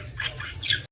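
A pet parrot indoors gives two short, harsh squawks close by, quick rough calls less than a second long.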